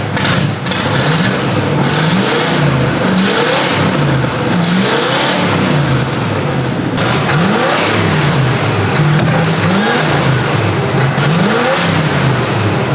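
A Camaro Z/28 engine, run-down but running, idles and revs repeatedly in rising and falling surges, loud and close throughout, with no talking.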